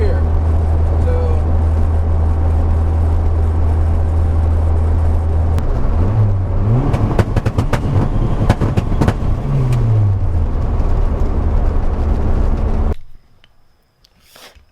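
A car accelerating hard through the gears up to fourth with boost, the loud engine rising in pitch, dropping at each shift and climbing again, heard close from inside the cabin before cutting off near the end, with a voice speaking over it.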